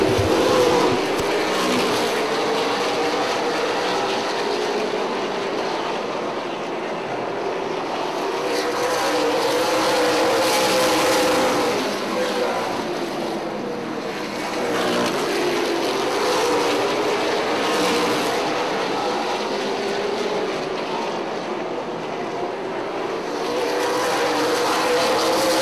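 Super Late Model race cars circle the track in a 75-lap race, a loud, sustained engine roar that swells and fades as the pack passes, with no talking.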